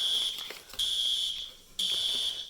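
A household fire alarm sounds in loud, piercing electronic blasts, two long tones cut by brief gaps, close by in an indoor room.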